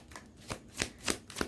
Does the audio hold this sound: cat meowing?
no